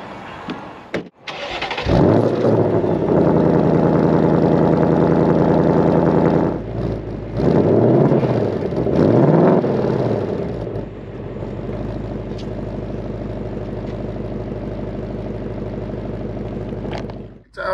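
A 2024 Ford Mustang GT V8 cranks and fires up, settles into a loud rumbling idle, then gets several throaty revs before dropping back to a steady burble, with a voice briefly speaking under it.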